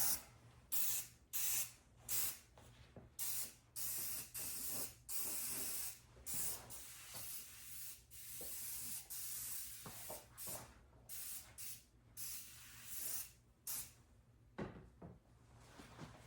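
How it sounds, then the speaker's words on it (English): A nearly empty spray can sends repeated short, sharp hissing bursts of cleaner onto a 1970 Dodge Dart Swinger being repainted, each burst separated by brief pauses, close and fairly loud. "now we'll go ahead and spray it down and wipe it down"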